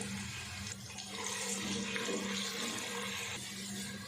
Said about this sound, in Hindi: घी गर्म हो गया, इसमें डालेंगे प्याज।